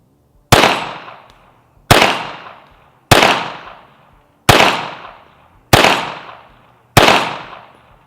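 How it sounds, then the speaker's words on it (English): Six evenly spaced, sharp Glock 42 .380 pistol shots fired at a 6-inch steel plate, each a loud close crack with a ringing decay between shots. "I'm gonna fire one magazine through it at this 6-inch piece of steel in front of me"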